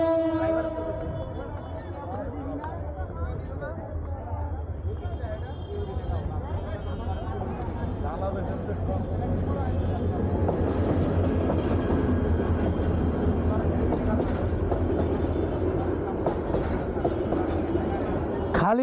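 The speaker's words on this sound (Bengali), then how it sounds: "পুরা খালি ট্রেন।" An empty passenger train rolls past a busy city road in Dhaka, a steady low rumble lasting throughout and swelling slightly in the second half, heard among traffic noise with people talking nearby.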